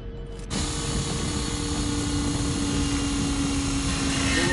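A drill in the shooter Call of Duty: Ghosts starts abruptly and then runs as a loud, steady mechanical whine with a constant grinding drone underneath, lasting several seconds without pause.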